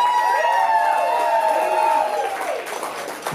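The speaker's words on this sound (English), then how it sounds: "Please give a big round of applause for James for being the MC." A bar crowd at the Howling Dog cheers loudly for the MC of a bearded ladies contest, with sustained whoops and voices over a dense, steady roar.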